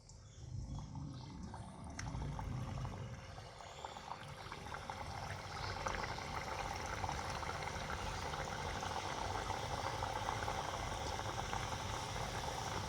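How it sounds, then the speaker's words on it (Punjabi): Namkeen mathi made from wheat-flour dough fry village-style in hot refined oil, giving a continuous loud bubbling sizzle that builds slightly and then holds steady, with no talking. "ਰਿਫਾਈਨਡ ਗਰਮ ਹੋ ਗਿਆ ਹੁਣ ਆਪਾਂ ਮੱਠੀਆਂ ਪਾਵਾਂਗੇ"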